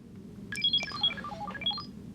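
A short electronic alert melody played back in the Kensington Proximo proximity sensor phone app, a quick sequence of clear synthetic beeping tones over a faint low background hum, heard alone.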